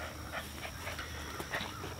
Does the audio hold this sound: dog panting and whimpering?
yes